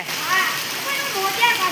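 Water splashes and splatters steadily as a small child is bathed at home, the sloshing continuous and close, with someone talking over it.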